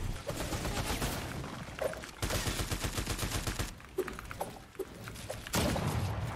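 Dense gunfire in the video game The Finals, rapid bursts of automatic shots and crackling impacts layered together, loud and continuous with brief pauses.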